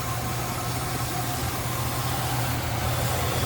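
A 1978 Lincoln Continental Town Car V8 settles into a steady, smooth idle once the automatic choke shuts off, heard close up as an even, continuous low rumble with no voices.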